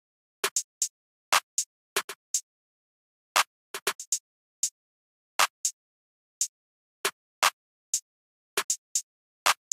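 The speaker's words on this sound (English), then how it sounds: "this is how the snare pattern with the clap and the hi-hat is sounding like" Sparse trap-style snare pattern layered with a clap and hi-hat, short sharp crisp hits in irregular clusters and pairs, dry and isolated against silence.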